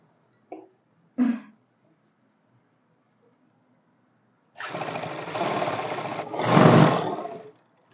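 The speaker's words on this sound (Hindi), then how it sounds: "इस तरीके से सिलाई पे, या फिर इसके बिल्कुल पास पास अपना मशीन चलानी है।" Trousers are stitched on a sewing machine near a buckram strip. After a couple of short taps, the machine runs in a close, steady whirring burst that lasts a few seconds and speeds up toward the end.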